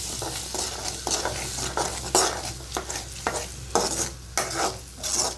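A utensil stirs eggs and eggplant in a hot pan, rhythmic scraping strokes roughly every half second over a steady soft sizzle, close and moderately loud, with no talking.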